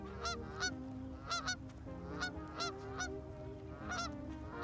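Geese honking in a loose series of repeated nasal calls, fairly close and clear over a quiet outdoor background, with no talk.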